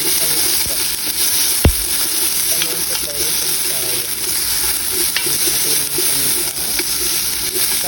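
Red onion sautéing in a hot pan gives a steady, close sizzle that holds even and loud throughout, with a single sharp clack near the start.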